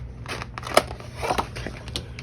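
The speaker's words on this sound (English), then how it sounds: "I'm going to take my scissors and I'm just going to cut it." Scissors cut through a paper sticker sheet in a few crisp snips, one sharp and prominent, close by over a low steady background hum.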